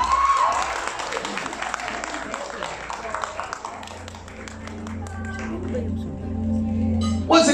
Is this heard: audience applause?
yes